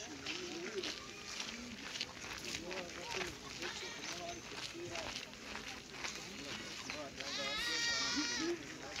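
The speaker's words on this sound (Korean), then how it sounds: "염소 소리 들으셨나요?" Goats waiting for their new owners at an early-morning goat distribution, bleating repeatedly over a busy background of people talking and children nearby, with a louder burst toward the end.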